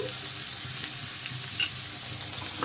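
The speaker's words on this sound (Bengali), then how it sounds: "ক্যাপসিকাম, বরবটি দিয়ে বেশ নেড়ে চেড়ে প্রথমে ভালো করে ভেজে নেব সবজিগুলো" Carrots, potatoes and other vegetables frying in a pan over tempered spices, a close, dense, even sizzle with faint stirring scrapes running the whole time.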